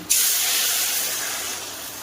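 Water poured into a hot pan of lightly fried eggs for an egg and eggplant curry sets off a sudden loud hiss that holds steady and slowly fades over two seconds.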